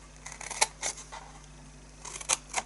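Scissors snip and notch paper for a handmade chocolate gift box: a few sharp, close cuts in two small clusters, separated by a quiet pause, with no talking.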